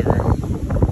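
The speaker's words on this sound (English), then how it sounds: "I know it's really windy out here" Steady wind gusting hard against the microphone beside a river, a loud low rumble that swells and dips throughout with no other clear sounds.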